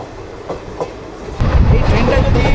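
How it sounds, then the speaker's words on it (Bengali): A moving train clatters along the rails, with a few light knocks at first, then a sudden surge into a loud, dense, rhythmic rattle that carries on to the end. "ছেড়ে দিল আমাদের ট্রেন এই মুহূর্তে বাজারশ স্টেশনের 3 নম্বর প্ল্যাটফর্ম থেকে"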